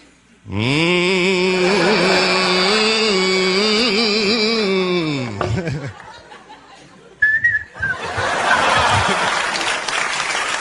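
A long sustained whistle from a performer on a stand-up comedy stage, loud and steady with shifting melody, then a short burst of audience applause and cheering near the end.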